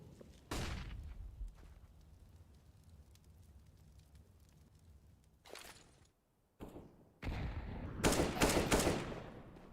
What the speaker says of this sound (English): XE does not miss shots with the AWP